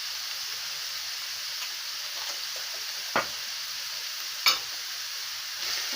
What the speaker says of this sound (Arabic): وهتديها تقليبه كده برضو اهو